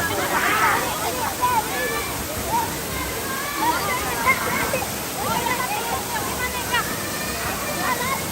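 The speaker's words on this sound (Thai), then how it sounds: "น้ำตกหมอกฟ้าค่ะ" A steady roar of Mork Fa Waterfall in Mae Taeng, Chiang Mai, Thailand, rushes continuously, with people chattering faintly beneath the water's constant wash.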